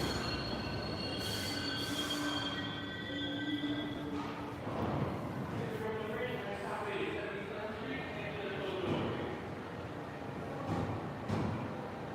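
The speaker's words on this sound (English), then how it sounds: "Look, it's a train." A New York City subway train pulls into a Manhattan station, its wheels squealing loudly with long high tones over steady rumbling, while people talk nearby.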